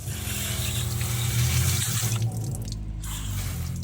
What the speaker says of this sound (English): Let me get my hose handy, and here we go.